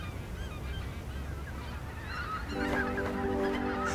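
Geese on the marshy plains of the lower Rhine honking, scattered calls over a low background rumble that grow into a denser, louder flock chorus in the second half.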